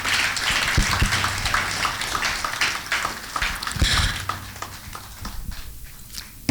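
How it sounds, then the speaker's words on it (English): Audience applause at an annual law conference in May 2019 after the chairman's address, a sustained dense clapping from a crowd in a hall with a few louder nearby claps, tapering slightly toward the end. "we need to give him a deserved applause"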